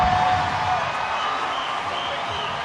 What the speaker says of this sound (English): a nice little closing salvo gets this crowd back on their feet